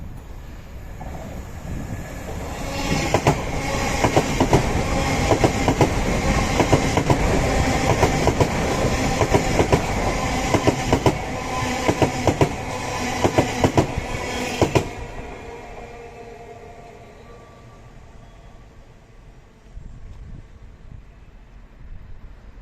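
A GWR Class 230 battery train arrives at a platform, its wheels clattering rhythmically over rail joints, loud and close for several seconds before the rolling noise fades to a quiet rumble as it slows.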